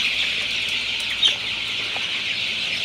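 A flock of twenty-five-day-old Sonali super hybrid chicks on a farm in hot weather keeps up a steady, high-pitched cheeping and clucking, with one brief louder call standing out near the middle.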